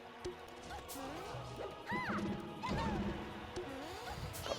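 Down smash attacks land in Super Smash Bros. Melee, sharp crashing hit sounds punctuating the game audio beneath steady crowd and commentary murmur, with a few whooshing effects and bright tonal sweeps.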